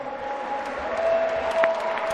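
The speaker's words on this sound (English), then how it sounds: "Let's start by giving the two boxers a big round of applause." Crowd applauding two boxers at a boxing event in Auckland, a steady wash of clapping with a few whistle-like tones rising over it across a couple of seconds.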